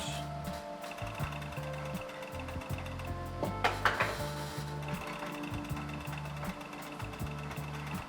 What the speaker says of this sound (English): I'm not stitching a straight line, but I'm stitching a couple of curves.